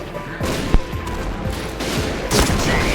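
Rapid bursts of gunfire from the Point Blank online shooter, sharp repeated shots in quick uneven succession with a louder blast partway through, standing alone without talk.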